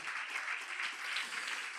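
Church congregation clapping in praise to the Lord, a brief dense spread of many hands applauding together, steady and moderately near with no voices over it.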